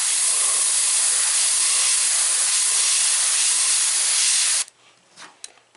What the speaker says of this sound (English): How much you want to spray here, how much you want to spray there.